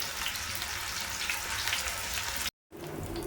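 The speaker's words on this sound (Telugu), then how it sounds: "ఓకే, అది ఫ్రై అయ్యేదాకా ఉందాము." Chicken breast pieces fry steadily in a pan, a dense continuous crackling sizzle at close range that cuts out briefly near the end before resuming.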